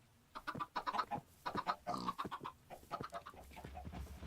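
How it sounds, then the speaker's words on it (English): Chickens in the Minecraft video game cluck in quick, soft bursts, a steady run of short calls heard alone without speech. "And then we have a couple chickens in here."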